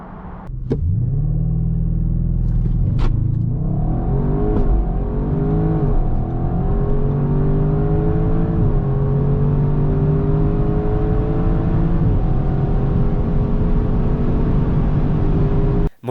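A family car engine roars as it accelerates hard, revving up through several gear changes with rising pitch, loud and close throughout, reaching 100 km/h in about 3.4 seconds.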